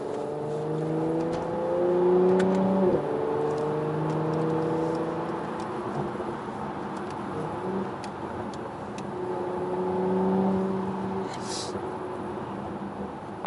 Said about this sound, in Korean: 악셀 밟는 중에 스포츠 모드 넣으니까 바로바로 저단으로 빡빡 내려가주네요